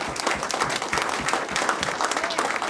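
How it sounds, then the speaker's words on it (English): An audience at a political event announcing a state senate run and an endorsement applauds loudly, with dense, continuous clapping from many hands filling the whole stretch. "allow me to close this by giving all of you a tremendous applause for being who you all are."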